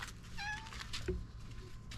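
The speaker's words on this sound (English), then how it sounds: "I got a kitty cat, yes. Meow." A cat meows once, a short rising cry, followed by a faint second chirp, close and clear against low background noise.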